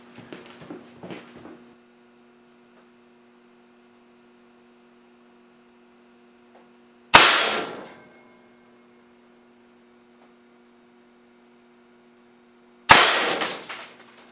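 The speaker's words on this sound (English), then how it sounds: "So I'm going to go and fire again, maybe a couple more times." An air cannon with a rifled metal barrel fires twice at a target, each shot a loud, sharp report with a short decaying tail, separated by several seconds of low steady hum, with faint handling noise at the start.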